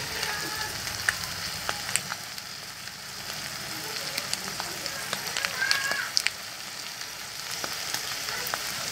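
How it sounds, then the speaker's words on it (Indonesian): Scrambled egg and sausage fry in a pan, making a steady, fairly quiet crackling sizzle with scattered pops and a few light stirring scrapes, and a voice is briefly heard in the background. "kemudian setelah itu kita aduk kembali."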